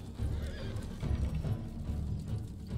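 Horses whinny and gallop together in a dense, loud rumble of hooves during a retreat in Ghost of Tsushima, with a steady roaring mix throughout.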